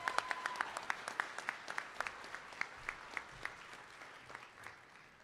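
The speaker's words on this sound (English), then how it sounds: "So let's give them a round of applause." At a medical school match day ceremony, a small audience claps in distinct, spaced-out slaps that slowly thin and fade, moderately close and unaccompanied by voices.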